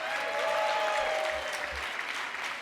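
A dinner crowd at the 2025 HRC Los Angeles Dinner claps together in loud, dense applause that holds steady without pause throughout.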